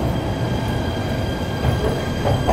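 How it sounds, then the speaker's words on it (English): A Brooklyn-bound C local train on the New York subway rumbles steadily and loudly throughout, with continuous rail noise and faint wheel squeal, no voices. "This is a Brooklyn-bound C local train."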